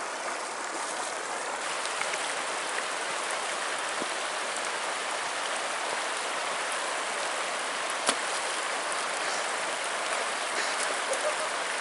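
River in Ha Valley, Bhutan, flowing steadily beside a walking path, a constant broadband rush of water heard up close with no pauses.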